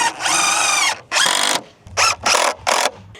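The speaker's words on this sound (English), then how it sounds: "But I'm popping to the miter saw for that." Miter saw cutting wood for a chicken coop door in a brick barn: a loud, close motor whine with a cut, then several shorter bursts of the saw spinning up and down, alone without talk.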